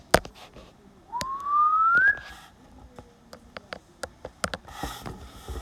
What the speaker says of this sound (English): Of course, the whistling sound is required.